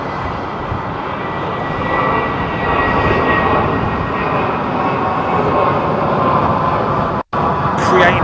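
Jet engines of an Airbus A330-900 airliner taking off in the Roblox video game: a loud, steady, broadband roar that holds without letup, with one brief dropout near the end.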